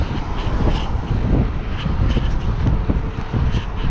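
Strong wind buffeting the microphone while riding a single speed bike, a loud, continuous, gusty rumble with no voices.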